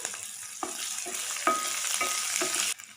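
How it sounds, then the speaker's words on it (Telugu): Chopped onions and green chillies frying in a pan, a steady close sizzle with several soft stirring scrapes spaced through it, cutting off abruptly near the end. "చిన్నగా కట్ చేసుకున్న ఉల్లిపాయ ముక్కలు, మంచిగా వేయించండి ఫ్రెండ్స్."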